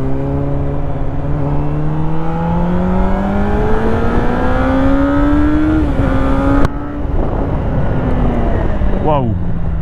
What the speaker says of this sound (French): est parti pour l'essai de la CBR 600 du collègue